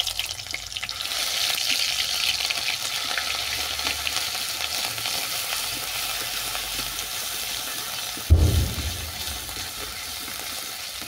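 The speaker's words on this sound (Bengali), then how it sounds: "রসুনটা কিছুক্ষণ ভেজে নিলাম" Garlic paste fries in a pan with a steady, moderate sizzle while a utensil stirs it, scraping softly throughout, with one sharp clunk of the pan late on.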